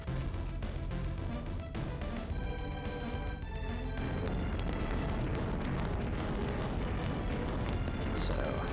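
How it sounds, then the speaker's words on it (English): Exploding lava in the Golden Sun: The Lost Age RPG, a game scene of rumbling booms and bursts under a layer of tonal game music, continuous and fairly dense. "Some nice explosions going on."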